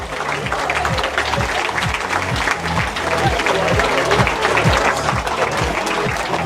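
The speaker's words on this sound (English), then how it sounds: "keep the applause going for Jaden Chambers-Morgan" A crowd at a football academy awards ceremony gives loud, sustained applause throughout, with faint voices or tones murmuring underneath.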